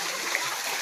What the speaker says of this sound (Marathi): आणि मी चाललेलो आहे चव्हाण आता पाण्यातून.